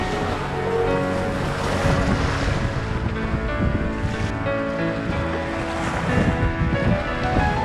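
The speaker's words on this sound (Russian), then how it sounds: "Ветер пропал, а хаотичная большая волна осталась." Large, chaotic sea waves wash around a sailing yacht at sea between Alanya and Finike, with the wind dropped. The rushing surf is loud and continuous, with no voices.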